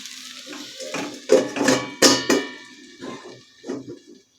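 Okra cooks in a pan and is stirred with a utensil, making a series of clanking, scraping strokes over a light sizzle. The sound is close and ends after a few seconds.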